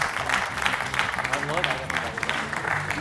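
A studio audience claps on a Georgian TV comedy game show, a dense, steady round of applause lasting a few seconds, with a voice speaking over it.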